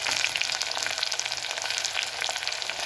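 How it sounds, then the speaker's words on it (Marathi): Onion and tomato fry in oil, a dense continuous crackling sizzle that stays loud and even from start to finish, heard up close with no talking. "कांदा टोमॅटो आपण छान असं तेलामध्ये परतून घेणार आहोत।"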